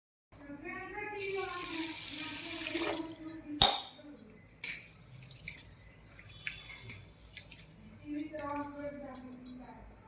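Rice and lentils are rinsed in water in a kitchen, with sloshing, dripping and a sharp clink of a vessel, while someone talks over much of it.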